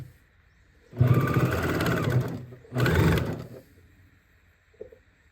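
A sewing machine stitches a fabric seam on a zipper pouch binding in two loud, close bursts of fast whirring, a long run followed by a shorter one, then quiet with a faint click.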